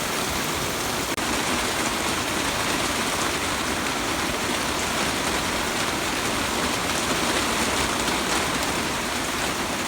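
Heavy rain pours down in a dense, steady hiss that stays loud and even from start to finish, with no voices over it.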